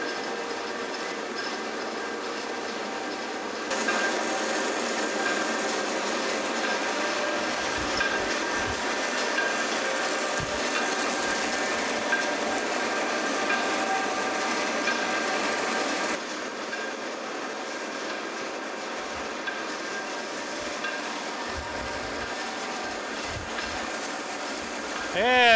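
A Marvel band saw cuts steadily through metal stock, a continuous mechanical drone with an even grinding hum that holds for most of the stretch and shifts slightly partway through, with no voices over it.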